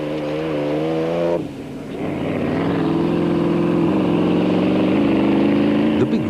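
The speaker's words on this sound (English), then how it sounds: "The big Rover V8 motor in Rob Walk's Super Pave Raceco was sounding healthy" Loud, sustained engine drone from a big Rover V8 in a Raceco off-road race car during the 1994 Toyota 1000 desert race, holding a steady note with a brief dip before climbing again.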